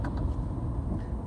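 Engine of a BMW E92 M3 producing a steady, dense low rumble, continuous and fairly loud with no talk over it.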